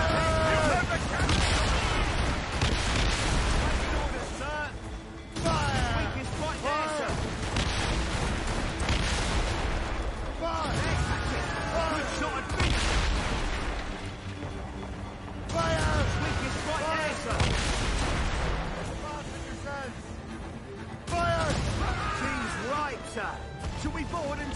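Broadside cannon fire from a warship in the video game Assassin's Creed Rogue booms in several heavy volleys at a steady rhythm over game music and noise.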